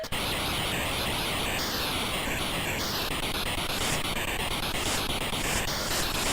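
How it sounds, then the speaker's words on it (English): Harsh white-noise music from the Commodore 64 game Space Walk, a dense continuous hiss with repeating sweeping tones riding on top, loud and steady throughout with no voices. "it sounds like a load of white noise because that's precisely what it is"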